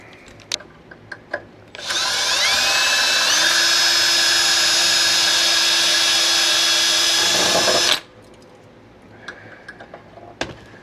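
A power drill bores into a plastic motorcycle fairing on a 2025 Kawasaki Ninja 400RR, whirring steadily for about six seconds, close and loud, rising in pitch as it bites in, then stops abruptly amid faint handling clicks.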